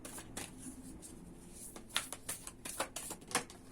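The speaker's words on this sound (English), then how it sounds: "Okay, so let's continue to shuffle." Tarot cards being shuffled by hand in a quiet room, heard as soft papery riffles and sharper crisp snaps that grow more frequent toward the end, close and fairly quiet with no one talking.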